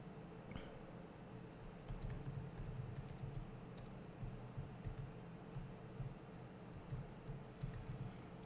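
Steady clicking of computer keyboard keys as a short quote is typed, a continuous patter of light key taps at close range with a faint background hum and no talking.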